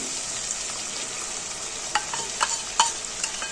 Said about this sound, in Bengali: মশলাটা কষানো হয়েই এসছে, মশলা দিয়ে তেল ছাড়তে শুরু করেছে